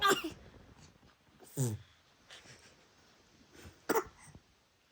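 A 16-month-old boy coughs in a few short, separated bursts close to the microphone, with soft talk in between.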